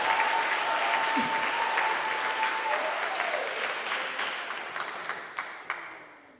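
An audience at a showcase event gives a round of applause, dense clapping that fills the room and then gradually thins out, with a few last scattered claps near the end.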